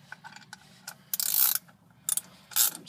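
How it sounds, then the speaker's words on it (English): Ratchet wrench clicking as it loosens a shock absorber bolt on a Ford F250 4x4 pickup truck, bursts of rapid pawl clicks in short close strokes separated by brief pauses, with no talking. "you can probably just use a regular ratchet like so."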